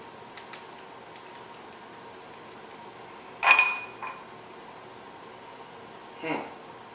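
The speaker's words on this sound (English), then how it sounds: "Get those enzymes really stirred around in that cup." A spoon stirs enzymes in a cup, producing a few sharp, close clinks spaced apart against an otherwise quiet background.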